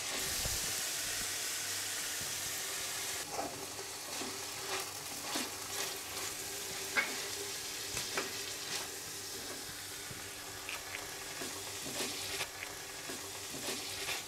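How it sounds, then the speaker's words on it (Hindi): Shredded cabbage being stirred into a spicy Schezwan chicken soup in a hot pan gives a steady close sizzle with repeated scraping and stirring clicks throughout, and no one speaks. "अब इसमें बंद गोभी डालकर मिक्स कर लेंगे।"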